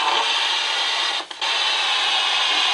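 Steady, loud hiss of white noise from a ghost-hunting radio device, broken by one brief dip partway through.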